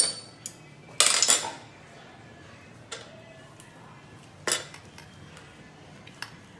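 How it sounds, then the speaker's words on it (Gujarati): Boiled flour stirred in a pot of ghee with a rolling pin, sparse knocks and clatters against the metal pot, one sharp loud clang early, over a quiet background. "આવી રીતે વેલણથી થોડીક છે ને આમ સરખી હલાવી નાખવાની"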